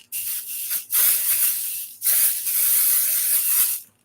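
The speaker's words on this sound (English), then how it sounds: "I'm actually going to spray a little bit of Pixie Spray on the back of mine" Pixie Spray, a repositionable light-tack stencil spray, hisses from an aerosol can in three sharp bursts separated by short pauses, close and loud, with no talking.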